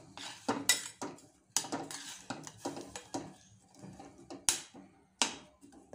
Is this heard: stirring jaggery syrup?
yes